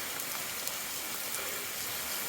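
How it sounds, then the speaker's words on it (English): Rain falls steadily at Leura in the Blue Mountains, a dense, even hiss of drops on surfaces close around, with no voices. "This rain would turn a lot of people off, but not me."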